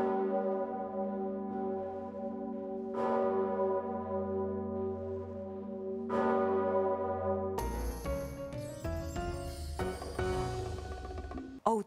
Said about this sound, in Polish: dzwonek na fasadzie Kościoła Mariackiego dzwoni, bo dzisiaj on dzwoni w czasie uroczystości pogrzebowych